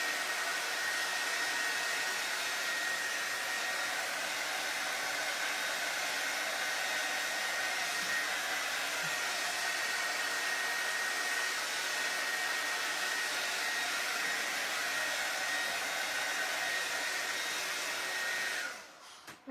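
A hair dryer blows steadily on wet paint over a stretched canvas made into a faux farmhouse wood sign, a loud even whoosh that runs unbroken for about eighteen seconds before cutting off at the end.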